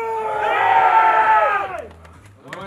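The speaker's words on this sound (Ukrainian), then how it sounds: "ми сподіваємось на вашу максимальну підтримку, оплески, крики, свисти" A crowd at a strongman record attempt in Ukraine, pulling the Mriya aircraft, roars and shouts loudly in one sustained swell of cheering, then drops away to scattered voices.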